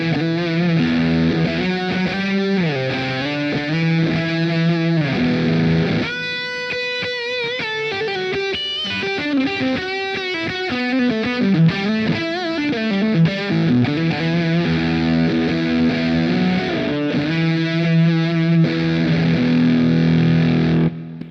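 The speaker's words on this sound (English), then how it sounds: "Now this is a great sounding fuzz pedal." Electric guitar played through a Big Muff fuzz pedal modeled on a Positive Grid Spark amp with sustain turned all the way up, producing thick, fat, loosely defined distorted notes and chords that ring continuously and loudly.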